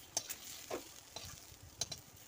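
Shrimp fritters fry in hot oil with a faint, steady sizzle, broken by a few soft clicks and scrapes as a utensil touches the pan.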